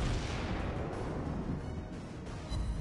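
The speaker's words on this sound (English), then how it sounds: "Fire again with the secondaries" Battleship secondary guns fire in a naval video game, a dense rumbling barrage of booms rolling together, loud and continuous with no talk.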